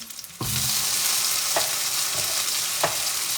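Tomatoes drop into a hot frying pan for ginataang langka with dilis, setting off a loud, steady sizzle that continues, broken by a couple of faint stirring clicks, with no voices.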